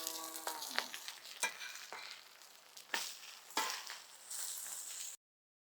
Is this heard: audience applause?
no